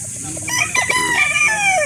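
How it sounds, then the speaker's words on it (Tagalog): A two-year-old Maclean broodstag rooster at a poultry market in Calauan, Laguna crows once, loud and close, in a rising then falling call over a low background murmur. "Ito yung brood stag nila. Ito yung magulang na."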